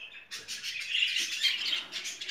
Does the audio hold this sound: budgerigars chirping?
yes